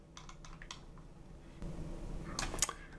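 Computer keyboard keys tapped while modelling a ceiling in SketchUp: a few soft scattered clicks early on, then a brief louder burst of typing near the end, fairly close and quiet with no talk.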